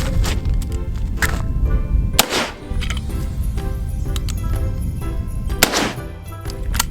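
A 1940s Winchester 30-30 rifle fires in the snow, with two sharp, loud reports about three seconds apart that cut through constant low background noise.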